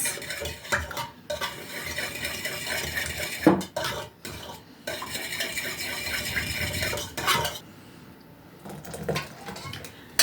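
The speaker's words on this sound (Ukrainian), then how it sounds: "це все вимішаємо, щоб і сіль розчинилася, і сметана в тому молоці, і яйце" Spoon stirring salt, sour cream, milk and egg together in a bowl, a close scraping, clinking swirl with brief pauses, repeated steadily and alone without talk.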